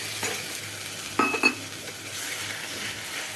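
Boiled onion paste hits a hot pan and fries with a steady sizzle while a utensil stirs it, with a couple of brief louder scrapes and clinks near the middle; no one speaks.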